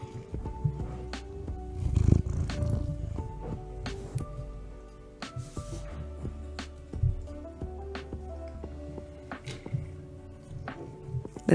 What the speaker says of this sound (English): my cat is finally here